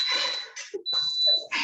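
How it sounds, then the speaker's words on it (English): A shrill electronic beep sounds in a home kitchen during a cooking session, a steady high tone that holds for more than half a second amid background clatter and room noise. "What's that beeping?"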